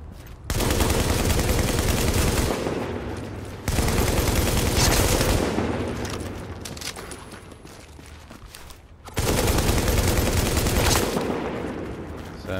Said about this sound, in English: I want to show you the LMG